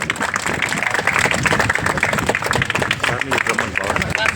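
Applause from an audience at a school launch ceremony in Uppal, Ganesh Nagar, sounds as a continuous crackle of many clapping hands with crowd voices underneath.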